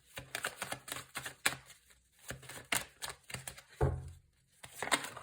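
Tarot cards riffled, slapped and drawn from the deck during a weekly reading, a series of sharp, close papery flicks and snaps with brief pauses between bursts.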